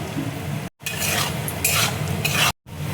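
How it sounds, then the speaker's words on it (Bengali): Chopped onions for thecha noodles fry in a pan and are stirred with a utensil: a steady, close sizzle with scraping, broken by two short silent gaps. "পেঁয়াজ দেখো ভাজা হয়ে গেছে"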